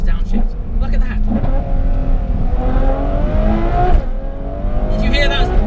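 A Ferrari F12 TDF's 770 bhp V12 revs hard through a string of downshifts, each blip rising and falling in pitch, loud and close in the cabin, while someone talks excitedly over the engine.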